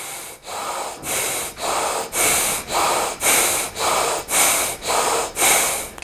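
Deep breathing in and out during a simple yoga mudra practice for elderly people, about ten strong, steady breath cycles, each loud and close, with no talking.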